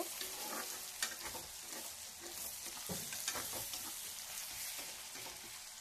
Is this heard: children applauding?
no